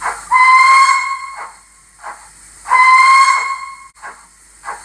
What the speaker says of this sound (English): F2 is a whistle